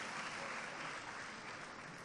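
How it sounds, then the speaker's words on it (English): A dense, continuous round of audience applause at a 4-H Clubs youth agriculture symposium in Jamaica, sustained and fairly faint, as if heard from a distance. "I want you to give the 4-H Club a big, big round of applause"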